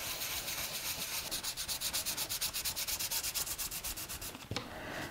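Embossed cardstock snowflakes rubbed with a coffee filter give a steady, rhythmic scratchy swishing, with quick back-and-forth strokes repeating close up, then a brief knock near the end.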